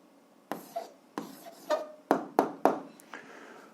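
A pen scratches across paper while an answer to an algebra equation is written out, a series of short, close strokes and taps with brief pauses between them, quiet and unaccompanied by talk.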